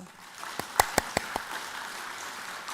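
A few scattered hand claps, about five sharp and fairly faint, ring out in a quiet hall during a Korean Won Buddhist dharma talk, then fade back to room tone.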